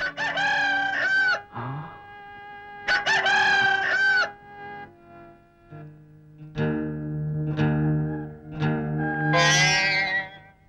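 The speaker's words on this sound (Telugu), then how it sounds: "పేతురు ఈ రాత్రి నీవు ముమ్మారు అబద్ధమాడిన తదుపరే కోడి కూస్తుంది" A rooster crows several times in a movie scene, its long, wavering, harmonic calls rising and trailing off with brief pauses between them. Some clucking fowl sounds are mixed in. No one speaks.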